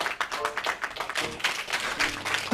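A canned applause sound effect plays on a lounge-style talk show, a dense burst of recorded clapping that runs steadily for the whole moment at moderate loudness.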